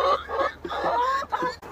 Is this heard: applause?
no